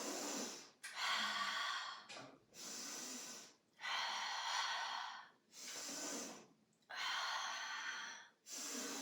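Forceful exhalations through the mouth during a seated breathing exercise with twists, five or so long breaths in a steady rhythm separated by brief silent gaps, close and fairly loud.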